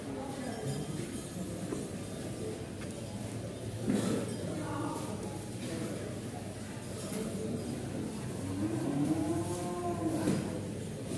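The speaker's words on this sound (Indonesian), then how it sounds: "Istimewa sapi ini." An extreme Goris cow at a cattle contest gives low, drawn-out moos, one near the start and a longer one toward the end, over crowd chatter and steady background noise.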